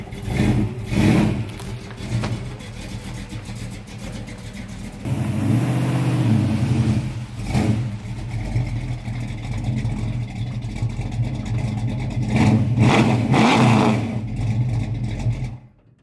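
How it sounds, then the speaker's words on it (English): A 1972 Dodge Dart on a new motor mount cranks and fires, then settles into a loud, rough idle broken by several throaty revs, close by with no talking. "that car never had started up that easily ever"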